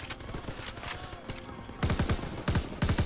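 Bursts of rapid gunfire in the Call of Duty WW2 campaign, a steady crackle of shots through the first half followed by several louder, heavier automatic volleys near the end.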